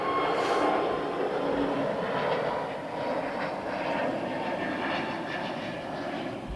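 Iran Air Airbus A330 jet at London Heathrow Airport, a steady broad engine roar that stays loud and even throughout, slightly swelling at the start, with no talk over it.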